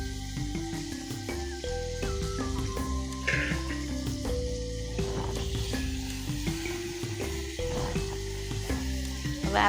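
Ginger, garlic and onion masala sizzles in a pan with a steady hiss that lasts throughout, partly under background music, with no one speaking.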